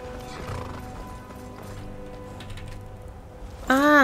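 A horse in the video game Skyrim, its hooves clopping steadily under low game ambience, then a loud, close neigh rising sharply at the end.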